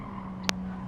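A short, sharp tire squeal cuts in during hard braking in the racing game WTC 600 on the Tokyo East track, over a steady engine drone.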